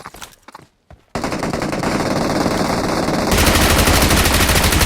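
Loud, continuous automatic gunfire in the PUBG Mobile game bursts in after a brief quiet moment and grows even denser toward the end, with rapid shots fired at close range.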